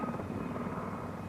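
A military helicopter's steady, throbbing rotor and engine roar, loud and continuous throughout.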